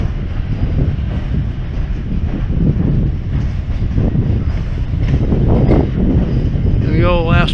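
A train rolls across the Cape Cod Canal railroad bridge, a steady loud rumble and rattle of rail cars that lasts throughout, with wind buffeting the microphone and a brief voice-like sound near the end.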